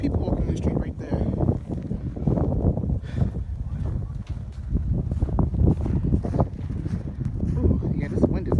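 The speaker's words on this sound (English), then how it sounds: "this wind is a mess" Strong gusting wind in a New York City street during the 2016 blizzard buffets the microphone with loud, rumbling bursts throughout, while a person talks intermittently.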